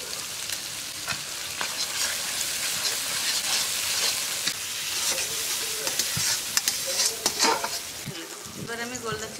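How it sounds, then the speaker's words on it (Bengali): Freshly caught freshwater giant prawns are stirred and fried in a pan with ground cumin, salt and a little sugar, making a dense, continuous sizzle broken by scraping stirs and clinks. "এবার আমি গোল্ডা চিংড়িগুলো মশলার সঙ্গে ভালো করে কষে নেব।"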